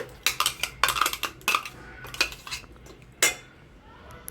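Spoon clinking and scraping against a metal pot while yogurt and vegetable puree are stirred together for a veg Kolhapuri pulao, a series of sharp irregular taps and scrapes.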